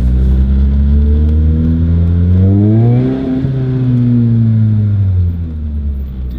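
A car driving on a test drive, its engine humming steadily and loud nearby as it climbs in pitch, then eases off and settles again, with no voices over it.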